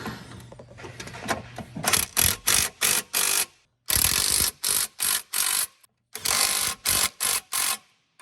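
Ratchet turning a socket on a long extension, tightening UTV bumper bolts: bursts of rapid clicking in four or five quick strokes per group, close and fairly loud, with short pauses between groups and no talk.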